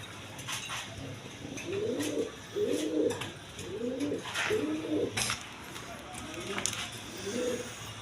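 Racer pigeons coo in a steady series of low, bubbling phrases close by, amid a constant noisy background with occasional clicks and faint voices.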